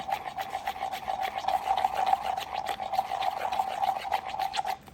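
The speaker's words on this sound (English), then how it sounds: "So mix it, scrape it, mix it." Pigment being mixed and scraped on a hard surface, a steady rasping rub with repeated strokes and a constant mid-pitched scraping tone, close and fairly loud throughout.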